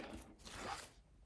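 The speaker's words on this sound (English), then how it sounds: "I'm going to peel off the backing of the score tape" Backing peeled from double-sided score tape makes a short, close, quiet tearing rasp lasting about a second, with no talking.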